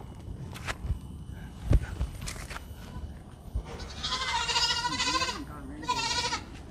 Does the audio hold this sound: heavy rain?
no